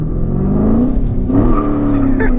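A Dodge Challenger Scat Pack with a naturally aspirated 6.4-litre V8 and six-speed manual launches from a standstill in first gear, its loud engine note rising steadily as it revs up, heard close from inside the car.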